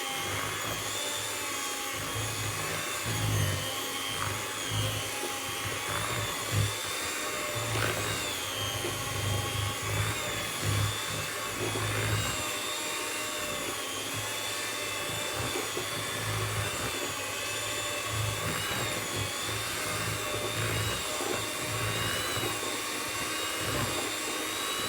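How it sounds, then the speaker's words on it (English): A hand whisk mixes white cake icing for a pink and white Christmas tree cake, giving a steady, close motor whir that wavers slightly in pitch and runs without pause. "I'm going to take my hand whisk here. I'm just going to start to mix this."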